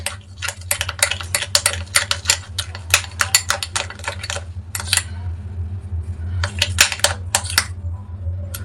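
A spoon or whisk clatters quickly against a bowl while homemade shampoo and rose water are mixed, in busy irregular bursts with short pauses, close and fairly loud.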